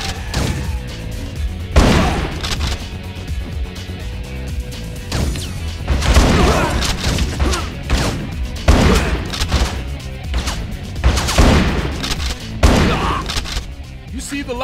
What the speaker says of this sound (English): That can happen when people fire their damn guns at you.